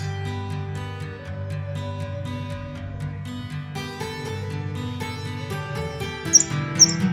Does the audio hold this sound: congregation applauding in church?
no